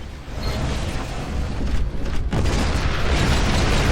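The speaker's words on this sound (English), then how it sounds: "you create just a crazy explosion" A Titan's nuclear ejection detonates in the video game Titanfall, a loud, sustained roaring blast with crackling debris that holds steady across the whole stretch without letup.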